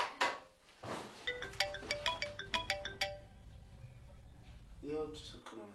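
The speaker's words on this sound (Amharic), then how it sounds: "የውጭ ስልክ ነው መሰለኝ።" A telephone rings indoors with a repeating electronic melodic ringtone of quick tonal pulses, heard faintly in a room, with brief voices before and after it.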